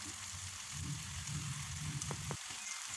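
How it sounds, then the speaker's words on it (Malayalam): Crispy snacks frying in hot oil give a dense, even sizzle while being stirred, with a couple of brief clinks near the end before the sound drops off. "നമ്മുടെ സ്നാക്സ് വെന്ത് വന്നാൽ ഇങ്ങനെ സൗണ്ട് മാറോട്ട് ഇളക്കുമ്പോൾ അപ്പോൾ തന്നെ അറിയാം നമുക്കത് വെന്തിട്ടുണ്ടാവുമെന്ന്"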